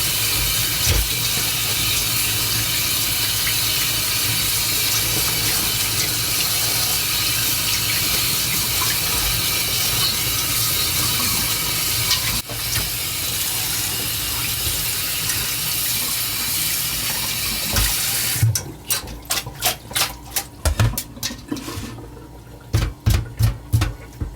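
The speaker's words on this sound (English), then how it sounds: "The next step is you have to wash the chicken." Raw chicken pieces being rinsed under a running kitchen tap for barberry rice with chicken, a steady close hiss of flowing water that runs unbroken, then breaks into short splashy bursts near the end.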